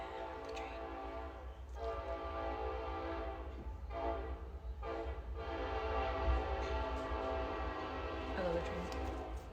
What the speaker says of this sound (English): I love the train.